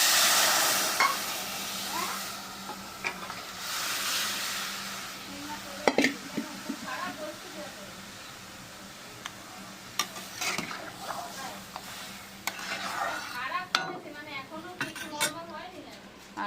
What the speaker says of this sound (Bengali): পেঁয়াজ ভাজছি